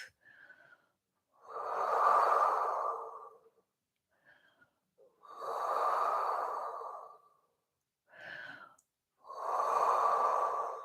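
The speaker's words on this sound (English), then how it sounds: "And just take this moment to take some deep breaths." Three slow, deep breaths taken during a Pilates stretch, each a long airy inhale or exhale lasting about two seconds, heard up close in a quiet room with short pauses between.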